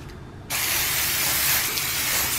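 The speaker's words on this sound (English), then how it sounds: "Got our fries all sprayed down," Cooking oil sprayed onto fries before air frying gives one continuous, close, loud hiss that starts half a second in and runs unbroken for about two seconds.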